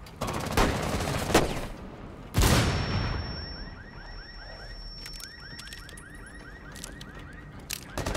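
Rifle gunfire in a counter-terrorism video game, with a loud sharp blast followed by a long stretch of rapid repeated shots and ringing echoes at moderate volume.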